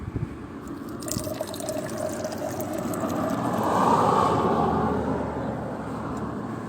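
Liquid drains steadily by gravity, a continuous trickling, splashing flow that swells slightly midway, with no talk.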